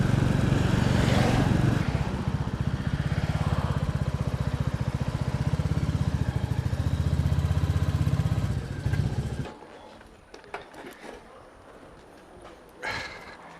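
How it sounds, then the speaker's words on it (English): A retro-style 350 motorcycle engine idling close by with a steady, thumping single-cylinder beat for about nine seconds before it cuts off, leaving quieter outdoor background noise at a motorcycle open day. "this is such an efficient engine as a 350"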